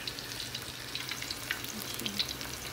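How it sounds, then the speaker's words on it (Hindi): A single piece of spiced fish pakora fries in hot oil, giving a close, busy crackle with sharp spattering pops scattered throughout, no voices. "हम इसमें चिमटे की मदद से एक पीस करके फ्राई होने के लिए डालेंगे"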